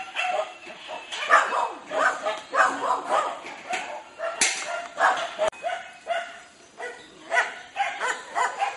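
Rescued dogs at a shelter in the Philippines bark, yip and whimper nonstop around a dinner cart. Several animals overlap at close range in a busy, excited chorus.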